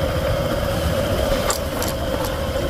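A motorbike engine runs steadily through a forest ride, a low continuous drone with a few faint high chirps, likely birds or insects, breaking through near the end.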